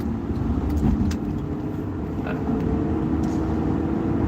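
Steady rumble of a car driving, heard from inside the cabin. Low road and engine noise runs throughout with faint small rattles, and no one speaks.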